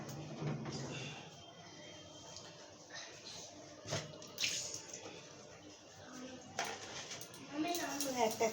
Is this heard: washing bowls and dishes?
yes